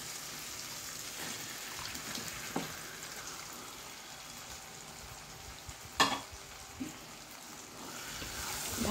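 Black chicken meat sizzles and fries in a pan with a constant crackling hiss, close and fairly quiet, punctuated by a few clinks and scrapes of stirring, with no talk.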